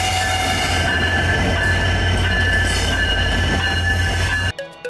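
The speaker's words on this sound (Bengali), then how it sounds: "ঢাকা থেকে ছেড়ে আসা আন্তনগর নীলসাগর এক্সপ্রেস ট্রেনটি প্রবেশ করলো।" Nilsagar Express, an intercity train from Dhaka, rolls into Ibrahimabad railway station with loud, steady rumbling and high squealing wheels throughout, cutting off abruptly near the end.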